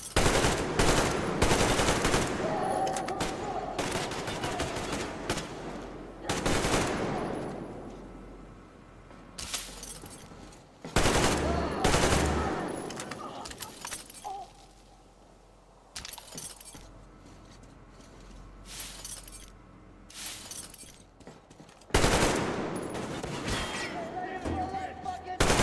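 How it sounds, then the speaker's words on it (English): Rapid bursts of automatic gunfire from the Metro Exodus video game, sharp repeated volleys with short pauses between them, loud and close, mixed with clattering in-game effects. "I'm just shooting up the gaff."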